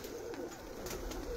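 Pigeons of a prized Ghazi breed kept by a fancier coo on a rooftop, a soft continuous cooing and murmuring from several birds at close range with no talk.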